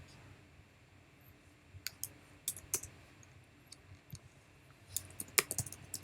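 Typing on a computer keyboard, sparse bursts of light clicking keystrokes in small clusters, close and fairly quiet over a faint background hum.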